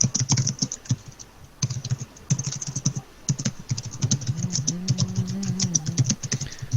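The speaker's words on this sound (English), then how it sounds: "Why am I typing that?" Computer keyboard typing during an online tabletop game session: steady, fast keystroke clicks with brief pauses, close to the microphone, with a low hum underneath.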